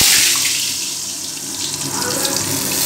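Bay leaf, dried red chilli, sugar and cumin sizzle in hot oil left over from frying potatoes for a Bengali mutton curry, a steady close hiss and crackle with no talking.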